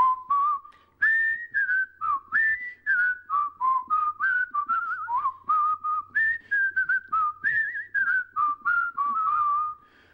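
A single person whistles the Andy Griffith Show theme alone, clear and close, in short melodic phrases with brief breaths between them.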